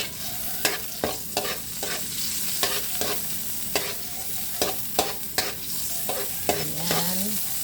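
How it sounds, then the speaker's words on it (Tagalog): Garlic sautés in not-yet-hot cooking oil, a constant bright sizzle broken by about a dozen crisp spatula scrapes and taps in an uneven rhythm, close and fairly loud. "Unahin ko na yung garlic. Hindi pa masyadong mainit yung mantika, pero okay lang yan."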